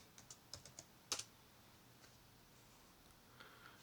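Someone types a password on a computer keyboard at a Linux login, giving a few scattered soft clicks and a brief cluster of keystrokes, quiet and close, with no talking.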